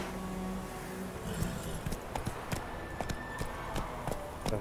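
Roach, a horse in The Witcher 3, clip-clops along in a steady run of hoof strikes at moderate distance, set against a constant game ambience.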